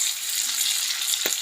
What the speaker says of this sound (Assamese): পিঁয়াজটো আগতে ভাজি লৈছোঁ